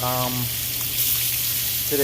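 Onion frying in a pan for a bacalao saltfish dinner, a steady close sizzle running the whole time, with brief speech at the start and end.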